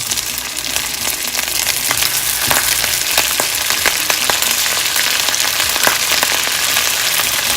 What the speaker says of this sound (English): I'm going to add the black pudding to the pan